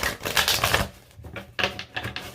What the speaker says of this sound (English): I'm going to shuffle a few times.